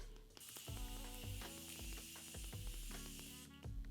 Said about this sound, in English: I'm also going to spray my face with the Morphe setting spray